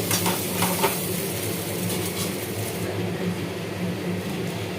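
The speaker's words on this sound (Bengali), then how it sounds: "এটা ভাজা হয়ে গেছে, এরপর আমি ম্যাগিটা দিয়ে দিলাম।" Maggi noodles dropped into a pan of fried spices and stirred, soft sizzling under a few clinks and scrapes of a utensil against the pan early on, then a steady low frying hiss.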